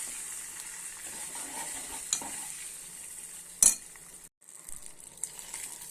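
A tempering of spices and turmeric for lemon rice sizzles steadily in a pan, a soft continuous fry with a sharp clink of a utensil partway through and a brief gap near the end.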